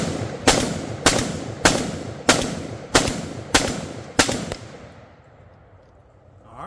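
An AR rifle fires 5.56 rounds at an AR500 steel target outdoors, seven sharp loud reports spaced about a second apart, each followed by a brief ringing decay, then quiet.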